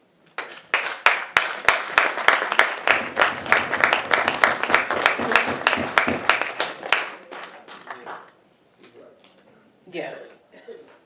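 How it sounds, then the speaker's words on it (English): Audience clapping at a history lecture: a sustained round of hands lasting about seven seconds, sharp individual claps merging into steady applause, then dying away into quiet murmurs and a few speaking voices. "I'm not sure why you're clapping so much"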